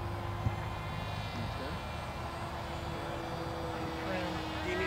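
A Mini Sky Hunter RC model airplane in flight on its maiden outing: a thin, steady propeller whine in the middle distance over outdoor wind noise, with people talking nearby.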